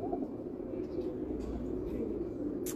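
Pigeons in a loft cooing. The sound is a continuous low, throaty murmur of several birds close by, with a faint sharper noise near the end.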